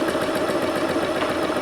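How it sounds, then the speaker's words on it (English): A sewing machine stitches quilt fabric slowly forward for a Summer in the Park quilt block, giving a steady, continuous mechanical whir and hum with no pauses, close and moderately quiet. "I'm going to slowly sew frontwards"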